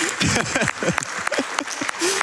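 Audience applause fills the room at the SGDQ 2019 speedrun charity marathon during a Castlevania: Portrait of Ruin run, a brisk burst of clapping with commentators talking over it.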